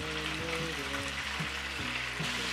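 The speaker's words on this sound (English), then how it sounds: "We're going to deep fry these really, really quickly until they've got a nice golden color on them." Lobster tails deep frying in hot vegetable oil, a faint, steady crackling sizzle with dense bubbling throughout, under a background hum.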